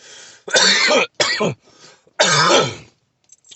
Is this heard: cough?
yes